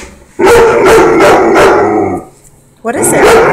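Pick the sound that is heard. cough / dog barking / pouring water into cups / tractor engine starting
dog barking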